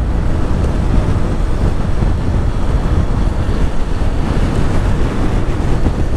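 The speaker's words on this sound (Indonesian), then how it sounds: "Angin udah mulai kerasa semeliwir" Steady, loud wind rush buffets the microphone while riding a motorbike at about 70 km/h on a smooth road in Lombok, a continuous roar with no pauses and no talk.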